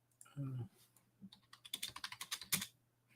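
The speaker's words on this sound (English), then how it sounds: "I'll type it out for you in the chat." Rapid clicking keystrokes on a wireless computer keyboard, a dozen or so quick, close taps in an uneven burst, preceded by a brief voiced sound and a few isolated clicks.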